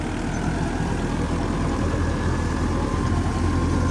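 A tractor engine idles close by, ready for wheat-season field work, giving a steady, unbroken low diesel rumble with no voices.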